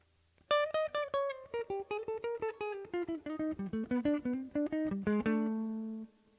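A quick run of single instrumental notes, clean and evenly articulated, descending through a minor bebop line and ending on a held low note, with no talking.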